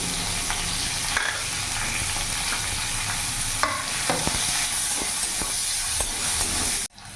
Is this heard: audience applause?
no